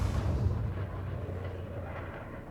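A heavy, deep explosion from size 10 torpedoes striking a Polaris ship in a video game, with a booming low rumble that starts loud and slowly decays.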